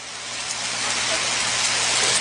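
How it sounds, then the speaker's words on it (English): Rain falls steadily during a football game in Walhalla, a dense, even hiss that grows slightly louder over the short stretch, with no voices heard. "Rain's starting to come down a little bit harder here now in"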